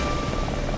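An animated cartoon helicopter gives off a brief, steady whirring rotor drone, heard alone.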